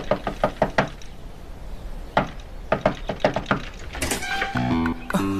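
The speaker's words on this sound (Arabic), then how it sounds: "ليش هيك عم تدق على الباب مثل الديانة؟" Knuckles knock on a door in quick bursts of four or five raps, repeated three times, close and distinct, with a short stretch of talk at the end.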